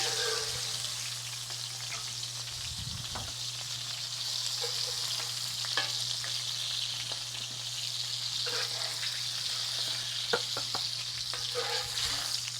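Cheeseburger patties fry in a pan with a steady, bright sizzle, close and moderate in volume, broken by occasional scrapes and light taps from a utensil.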